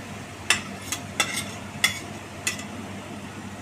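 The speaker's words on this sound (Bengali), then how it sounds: "আমি এবারে কিছুক্ষণ নাড়তে থাকবো।" Pumpkin greens fry with potato and onion while a spatula stirs them, giving about six sharp scraping clinks spaced roughly half a second apart. A low, soft sizzle continues in the background.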